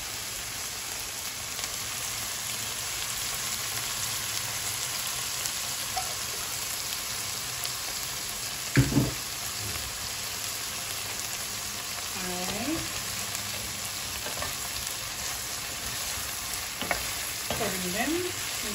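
Shrimp fry in oil in a pan with a steady, close sizzle that runs throughout, broken by a few short knocks and scrapes.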